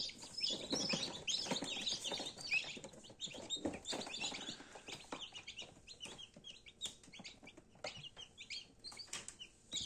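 Busy, overlapping high-pitched chirping and peeping from many newly hatched incubator chicks, continuous and close, with occasional louder calls and soft clucks.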